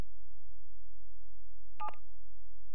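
A short burst of telephone keypad dialing tones in a video game, a quick cluster of beeps near the middle over a steady low electronic hum, with no voices.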